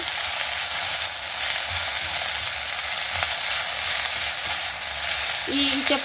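Tagate leaves roasting in a pan give off a steady, broad sizzle that holds close and even the whole way through, with a few faint scrapes of stirring and no talk.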